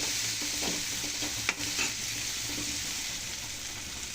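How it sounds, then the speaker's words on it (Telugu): Eggplant pieces and dried prawns frying in oil in a pan, giving a steady close sizzle with a brief stirring clatter partway through, no voices. "ఇప్పుడు మనం కట్ చేసి పెట్టుకున్న వంకాయలు వేసాం."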